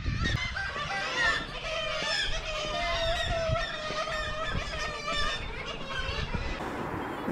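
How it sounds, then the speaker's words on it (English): A dense chorus of seagulls calls nonstop in the Arctic fishing village of Berlevåg, Norway. The cries are loud and near, with many overlapping voices and no talk. "there's definitely a lot of seagulls here in this village"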